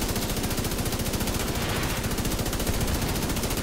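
Machine gun fire in a video game rattles out in a rapid, unbroken stream of shots, loud and constant throughout.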